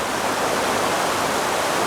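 Water rushes loudly and steadily in a Dutch dune filtration area that supplies drinking water, a dense, unbroken wash of flow close to the microphone.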